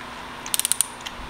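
A half-inch ratchet torque wrench tightens a spark plug on a 2.0T Audi Allroad B8, producing a quick run of about five sharp, close clicks.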